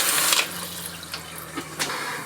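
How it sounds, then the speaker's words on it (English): Water runs from an RV sink tap in a Geo Pro 19FBS travel trailer, a steady close splashing stream with a low pump hum underneath. "I turned the water on and I just been letting it run out of the tank"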